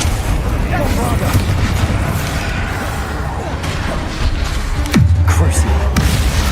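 The Bombarda explosion spell goes off in Hogwarts Legacy during loud combat with a dense rumbling background. A strong blast lands near the end with a low resonant boom that rings on, and voices are mixed into the din.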